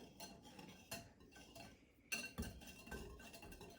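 Stirring a plain yogurt mixture in a bowl for naan dough, with faint scraping and clinking of a utensil against the bowl in short irregular strokes, fairly quiet and without talk.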